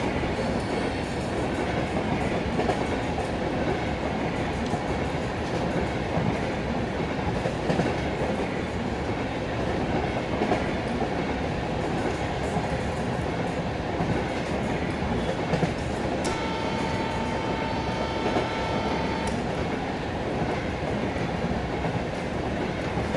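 A diesel train in Indian Railways Train Simulator rolls steadily on the rails at a station approach, a loud, continuous rumble with rhythmic wheel clatter and a brief squeal or horn-like tone partway through.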